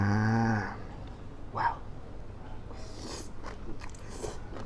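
Crunchy chewing and biting while eating dry Thai sukiyaki, soft close mouth sounds coming in small bursts after a brief voiced sound at the start.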